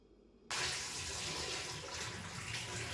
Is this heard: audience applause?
no